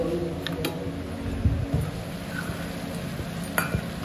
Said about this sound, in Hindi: मैं यहाँ सब्जी बना रही हूँ